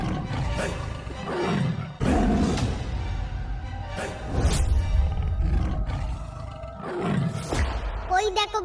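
Cartoon tiger roaring, several loud growling roars in bursts close by, mixed with voices and dramatic animation sound effects.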